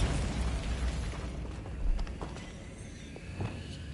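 A Bombarda spell cast in a Hogwarts video game sets off a rumbling blast, followed by a few sharper pops and crackling debris that fade over several seconds.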